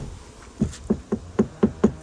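Door check mechanism of a Mazda CX-7 car door with rebuilt limiters, clicking through its detent stops as the door swings open: six close, evenly spaced knocks or clicks, growing slightly louder, with no talking.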